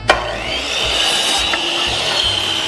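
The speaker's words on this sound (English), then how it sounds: "make sure that the miter saw is lined up in the middle on the 0 degrees. Line it up the best as you can and cut." A miter saw set at 0 degrees cuts through a piece of wood for a farmhouse sign, giving a sharp start and then a steady, loud whining cut that holds for nearly three seconds with no talk.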